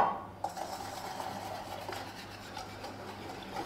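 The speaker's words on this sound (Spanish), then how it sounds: "Y lo vamos a batir con el azúcar." Whisk stirring eggs with sugar in a bowl for a light Greek yogurt cake, a continuous quiet scraping and clinking against the bowl at close range.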